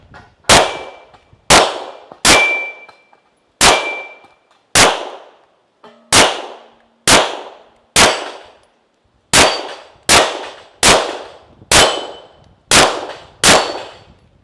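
Gunshots ring on steel targets during a practical shooting stage. About sixteen sharp, loud cracks each carry a bright metallic ring, fired in quick irregular groups with short pauses between them.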